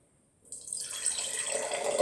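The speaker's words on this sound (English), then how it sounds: "all I'm doing is adding water and slowly making the water higher and higher and higher" Water pours steadily into a cup for a homemade xylophone, starting after a short silence as a bright splashing stream that fills continuously and rises slightly in pitch.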